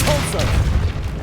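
A Compulso spell blast in Hogwarts Legacy lands as a single loud, booming burst with a brief whoosh at the start, then rumbles on through the short clip with no voice over it.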